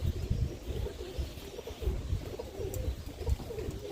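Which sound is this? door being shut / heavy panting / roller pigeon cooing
roller pigeon cooing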